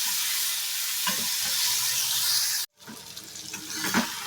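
Fruit chutney with turmeric and salt being stirred in a hot pan: a steady loud sizzle with scraping strokes, a brief silent break, then more stirring and sizzling.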